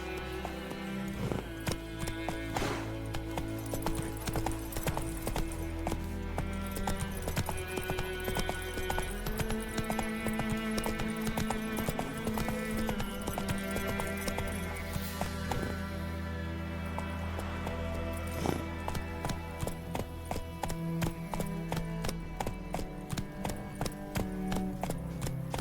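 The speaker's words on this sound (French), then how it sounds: "Au galop, Ablette" Horse hooves galloping in the video game The Witcher 3, a continuous rhythmic clip-clop running throughout over layered game music, with an occasional snort.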